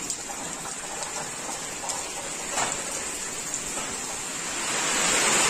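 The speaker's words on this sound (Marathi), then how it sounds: "पाऊस आज सुद्धा जोरात आहे इकडं" Heavy rain falls in the countryside during rice planting, a steady broad hiss of drops on surfaces that grows slightly louder toward the end, with no voices.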